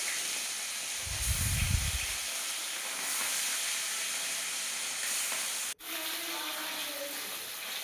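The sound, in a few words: bata fish frying in oil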